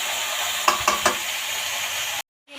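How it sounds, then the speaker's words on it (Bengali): Snake gourd frying in a little oil with black cumin, dried chilli and chopped onion, giving a steady close sizzle broken by three quick stirring knocks, then a sudden cut to silence. "এবার ওর মধ্যে একটুখানি তেল দিয়ে বসিয়ে দিলাম চিচিঙ্গে ভাজা।"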